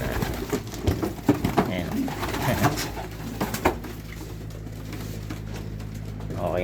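Racing pigeon hens cooing in a loft, with soft repeated coos and wing or shuffling noises mixed with bumps, plus someone talking briefly over them.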